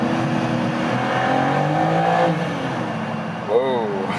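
A performance coupé's engine revs up as the driver downshifts with the paddles inside a tunnel, echoing with a climbing, harmonic-rich growl while a person talks over it.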